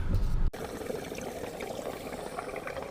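Non-ethanol gasoline poured from a 5-gallon can into a fuel tank, a soft, steady liquid gurgle and trickle after a brief handling bump at the start, fairly quiet and close.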